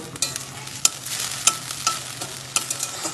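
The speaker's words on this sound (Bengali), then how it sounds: "তেলের সাথে টমেটো, আদা ও লঙ্কাটা ভালো করে কষিয়ে নেব।" A paste of tomato, ginger and green chilli sizzles in hot oil in a pan for Bengali fish curry, with a steady crackle broken by sharp scraping clicks of a spatula stirring it, close and alone.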